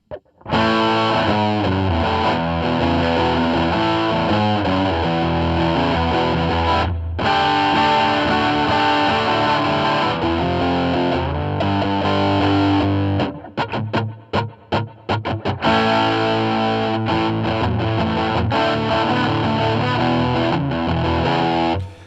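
A loud, distorted electric guitar through a Hermida Zendrive overdrive pedal plays chords and riffs continuously, with a brief choppy, stuttering section in the middle before the full sound resumes.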